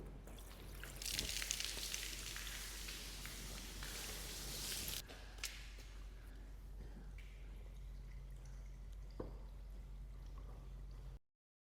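Hot water is poured over paint protection film on a car, a soft trickling splash for a few seconds that gives way to faint drips and quiet patter.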